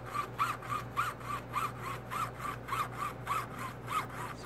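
A small saw blade cuts rhythmically through a silver quarter being made into puzzle pieces, with steady back-and-forth strokes about three per second, close and moderately faint over a low hum.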